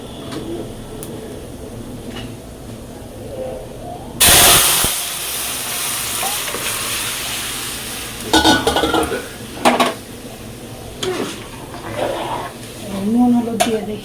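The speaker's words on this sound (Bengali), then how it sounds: "সর্ষে, শুকনো লঙ্কা সর্ষে দিলাম ফোড়নে।" Mustard seeds and dried red chillies tempering in hot oil, a steady sizzle and hiss with metal spoon scrapes and clinks against the pan, one loud burst of spattering, and a voice talking over it.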